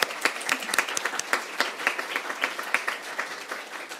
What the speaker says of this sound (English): let's give a round of applause to GAP and ICAP for the excellent work that they do.